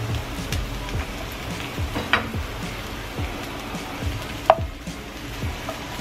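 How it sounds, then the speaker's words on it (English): Mushrooms sizzle gently in a pan with a soft, steady crackle, broken by a few sharp taps of a utensil against the pan. "just like kind of let it sit and let the mushrooms saute"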